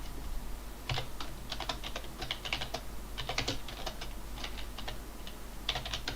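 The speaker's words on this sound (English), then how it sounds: "Sorry, so I'm just typing this in to thing." Quiet, rapid clicking of keys on a computer keyboard as a game join code is typed in, coming in short irregular bursts over a low steady hum.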